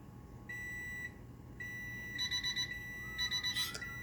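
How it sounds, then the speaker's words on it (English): Two sustained electronic beeps, then two quick bursts of short pulsing beeps from a kitchen oven timer, fairly clear over a quiet room. "the kitchen oven timer just beeped about 5 times and quit"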